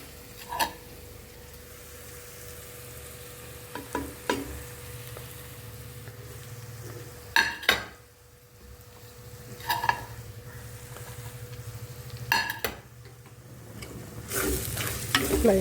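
Ground spices for egg masala, including chili, coriander, turmeric, black pepper, beef masala and crushed cardamom, sizzle and fry steadily in a pan while a spoon stirs them, scraping and knocking against the pan now and then.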